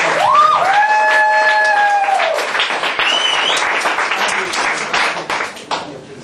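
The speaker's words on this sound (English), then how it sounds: "Let's get a round of applause for Jess" Live audience at a Friday night show applauds and cheers, a dense wash of clapping with whoops, while a voice or whistle-like tones sound near the start; the clapping stays loud and steady throughout before thinning slightly toward the end.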